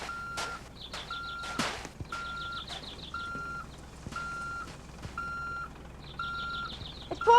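Truck reversing alarm in a video game, a steady run of evenly spaced high beeps repeating throughout, with footsteps and thuds in the background.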